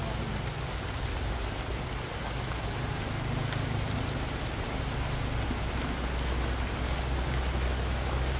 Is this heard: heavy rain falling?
yes